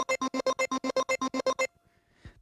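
Microkorg synth sample run through auto-pan used as a tremolo plus distortion, pulsing in about thirteen rapid even chops before cutting off, followed by a faint brief tail.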